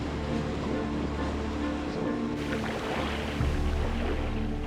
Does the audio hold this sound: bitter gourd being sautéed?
no